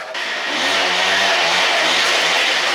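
A small moped engine revs loudly and steadily up close, its buzzing pitch rising and falling with throttle for a few seconds.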